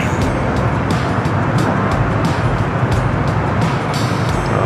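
Steady, loud road traffic noise: a dense, continuous rumble of passing cars and heavier vehicles, fairly close, with no voices over it.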